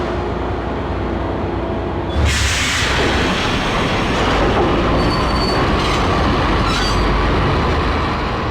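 A train in the Max Payne video game starts up and rolls on its rails, a sudden loud surge into a continuous rumble with wheel squeal and clatter, close and sustained.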